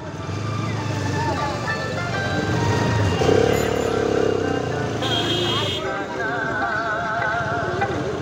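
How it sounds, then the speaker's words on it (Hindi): A road jammed with cars and motorcycles fills the scene with a dense, continuous drone of idling engines and revving bikes close by, horns and beeps cutting in, with someone talking over the traffic. "जाम लगा हुआ है"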